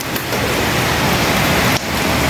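Heavy rain pours down steadily with strong gusty wind, a dense close roar that holds level throughout, with one brief dip near the end.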